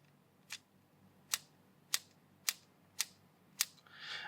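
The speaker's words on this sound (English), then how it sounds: "Let's just flip this open. That's not really a satisfying click" Plastic hinge of a Powkiddy V90, a cheap clamshell handheld built like a Game Boy Advance SP, clicking as it opens and closes: six sharp, light clicks spaced about half a second apart, close up and alone, ending in a brief rustle.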